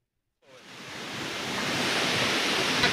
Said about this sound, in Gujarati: અત્યારે આ સરોવરમાં પાણી ચાલુ છે, એટલે આનો અવાજ આવે છે